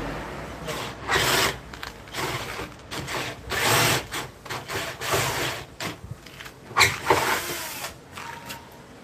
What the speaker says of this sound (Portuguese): primeiramente vamos fazer um furo para passar o tubo